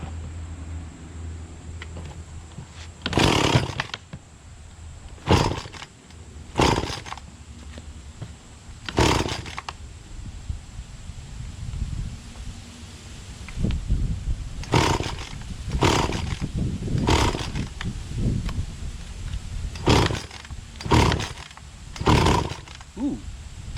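An Echo CS-400 40cc commercial gas chainsaw with a seized centrifugal clutch is pull-started several times with loud, sharp bursts, then catches and runs in a rough, uneven idle.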